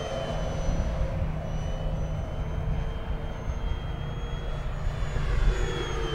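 A Banana Hobby T-28 1100mm 4S RC model airplane drones steadily through a steep turn, its electric motor whine holding a continuous, moderately loud tone with slight pitch shifts and outdoor wind noise underneath.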